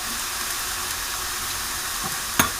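Soy sauce hits hot fried rice in a pan, giving a loud, continuous broadband sizzle with a brief sharp clink of a utensil near the end.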